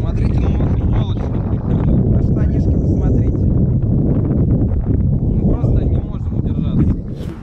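Strong wind buffets the microphone in loud, rough gusts, with a person talking intermittently under the roar.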